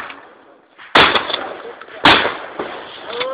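Two sharp, loud shotgun blasts at an outdoor shooting range, about a second apart, each followed by a ringing tail, with a softer third report near the end and faint background noise.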